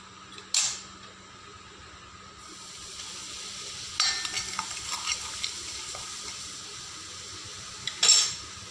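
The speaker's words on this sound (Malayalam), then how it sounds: "അതിട്ട് കൊടുത്തിട്ട് ഒന്ന് ചെറു ചൂടിൽ ഒന്ന് വഴറ്റി കൊടുക്കും" Chilli powder sautéing over low heat in a pan of pickle base for orange peel pickle: a soft, steady sizzle broken by three sharp spoon scrapes against the pan, with no talking.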